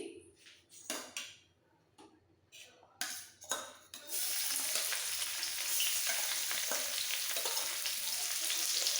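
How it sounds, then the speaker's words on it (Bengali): Chopped garlic and ginger dropped into hot oil in a wok, with a few clattering knocks followed by a sudden loud, continuous close sizzle that holds steady to the end. "তেল গরম হয়ে গেছে দিয়ে দেবো রসুন কুচি আদা কুচি"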